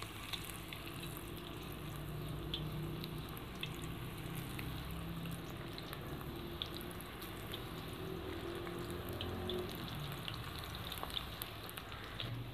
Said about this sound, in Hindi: अब यहाँ पे हम पकोड़ों को फ्राई कर लेंगे। मैं हाथ की मदद से पकोड़े डालूँगी